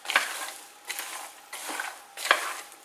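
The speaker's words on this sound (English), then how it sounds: "to fry the peanuts, but you have to stir all the time, so to avoid it's burn and in the bottom" Peanuts stirred while frying in a pan on a stove, a utensil scraping in four distinct rhythmic strokes over a soft, quiet sizzle.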